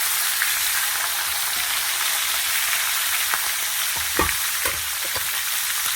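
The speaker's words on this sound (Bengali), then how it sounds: "মাথাটা ভালো করে ভেজে নেব" A large fish head fries in hot oil in a pan, a steady dense sizzle throughout with a few sharper spits and crackles, close and fairly loud, no voices.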